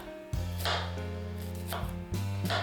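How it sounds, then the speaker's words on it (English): A kitchen knife slices peeled shallots on a cutting board while preparing Thai basil chicken: a few crisp, close cuts at uneven intervals over a steady tonal background hum. "Then we peel and slice 3/4 cup shallots."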